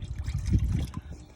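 Hot water pours into a water basin fitted with a reattached irrigation line, a steady close trickling splash running continuously with no talk over it.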